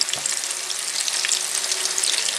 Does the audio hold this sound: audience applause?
no